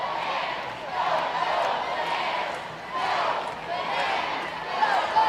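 Stadium crowd at Grayson Stadium in Savannah chanting "Go Bananas" during a Savannah Bananas game, a loud, reverberant massed roar that swells and dips in waves across the stands.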